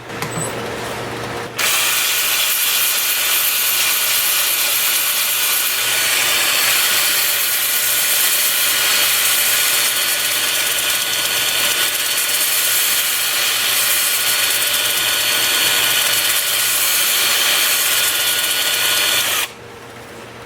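Sandpaper rubs against a spinning maple workpiece on a wood lathe, a steady, loud broadband hiss with the lathe's motor hum underneath, starting after a brief quieter lead-in and cutting off near the end.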